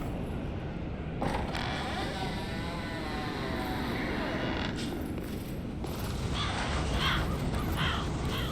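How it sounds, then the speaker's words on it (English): Crows caw several times in the background of a Dark Souls III area with fires and lanterns, heard as scattered calls over a dense, constant ambient rumble. "Got a lot of crows."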